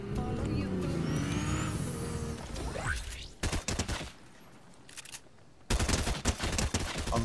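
SMG fire in a Fortnite match rattles in quick, loud bursts in the second half, following a stretch of engine-like game noise, with a voice talking over it.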